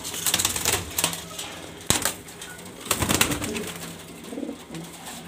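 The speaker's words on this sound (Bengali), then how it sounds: "এখানে সব বাছাই করা গ্রিজেল কবুতর নর মাদি।" Grizzle pigeons, selected males and females, coo nearby while sharp tapping and clattering knocks punctuate the scene, loud and irregular, with no speech.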